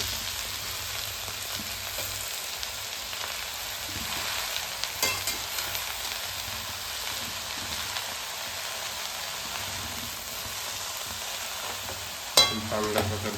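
Chilli, garlic and cumin frying in a pan on a low flame, a soft continuous sizzle with occasional scraping stirs, and a sharper clatter of the utensil near the end.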